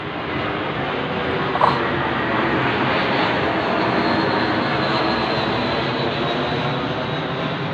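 Military aircraft flying overhead, a loud continuous engine roar that holds steady for several seconds with no talking.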